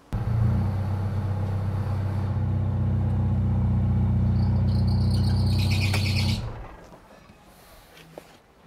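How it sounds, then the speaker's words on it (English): A VW Caddy with a 2.0 TDI engine cranks and runs on a weak, dead battery, its too-long alternator belt squealing loudly over a steady low engine drone for about six seconds before the sound cuts off abruptly. "Ignore the squealing, the battery's dead and the alternator belt's a little bit too long"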